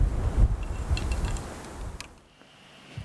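Strong mountain wind in Rocky Mountain National Park, gusts buffeting the microphone with low rumbling thumps that fade into a brief lull before another short gust.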